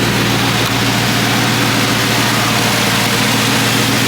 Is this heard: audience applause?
no